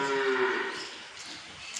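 A dairy-farm buffalo that has recently calved gives a single long, close moo that fades out, with nothing else heard.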